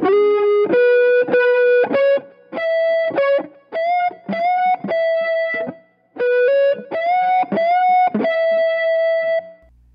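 Overdriven electric guitar repeats a full solo riff, punchy picked notes with bends and held pitches in two phrases separated by a brief pause, with no voices.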